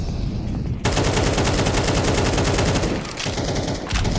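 Loud rapid gunfire in Counter-Strike on the Inferno map as automatic bursts are sprayed through a wall, a dense hammering stream that stops briefly, then resumes in short volleys.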